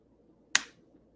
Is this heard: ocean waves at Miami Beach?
no